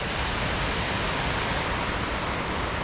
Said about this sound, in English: It's a beautiful waterfall and so easy to get to as well from the main road.